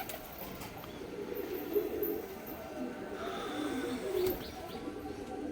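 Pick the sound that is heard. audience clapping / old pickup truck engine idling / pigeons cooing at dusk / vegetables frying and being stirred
pigeons cooing at dusk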